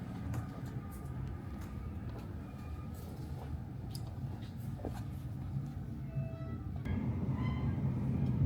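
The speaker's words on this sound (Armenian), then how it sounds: "Գնացքը 2 հարկանի է, իջել եմ ներքևի հարկ" Interior rumble of a double-decker train heard from its lower deck while running between Belgium and the Netherlands: a steady, close low-frequency drone with faint rattles and squeaks, swelling slightly louder toward the end, with no talking.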